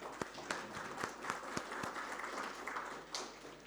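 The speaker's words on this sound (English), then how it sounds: "A big round of applause for him." Audience applause greeting a guest speaker at a maritime knowledge event, a soft, continuous patter of clapping with a few sharper claps standing out, moderately distant and fairly faint throughout.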